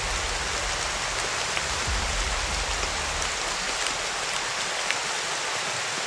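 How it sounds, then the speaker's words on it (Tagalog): Steady rain falls continuously, a soft even hiss with scattered drops pattering on a surface, no voices. "Palaging umuulan."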